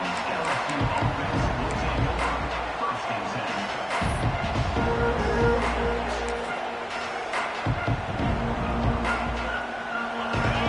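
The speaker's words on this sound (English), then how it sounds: "This crowd bringing the energy and noise early." A large football stadium crowd roars steadily in the distance, a continuous wash of cheering and noise with an announcer calling the game over it.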